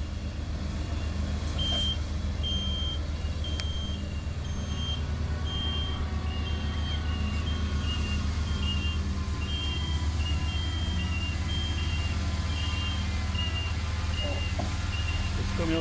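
An asphalt transport truck backs up on a street being paved, its steady reversing beeps repeating at an even pace over a constant low engine rumble throughout.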